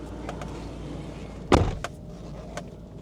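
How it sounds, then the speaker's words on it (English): A self-closing door on a shop building swings shut with a single solid thud midway, followed by a few light clicks and taps in a quiet interior. "Self-closing door and everything."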